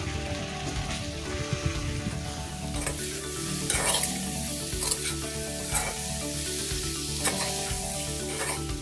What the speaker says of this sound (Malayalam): ഒന്നര സ്പൂൺ ഗരം മസാലപ്പൊടി, 1/4 സ്പൂൺ പഞ്ചസാര ഇത്രയും ചേർത്ത് നന്നായി ഒന്ന് വഴറ്റിയെടുക്കാം